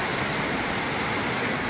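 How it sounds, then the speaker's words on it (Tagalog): Floodwater flows fast and strong during a super typhoon, a loud, steady, broadband rushing roar with no break, heard up close and alone. "Lakas ng flow ng tubig."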